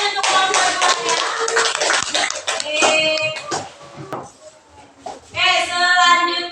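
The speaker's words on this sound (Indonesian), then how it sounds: "Tepuk tangan untuk kelompok 2 ya." A classroom of students claps for a presenting group, bursts of sharp hand claps close by mixed with children's voices and chatter.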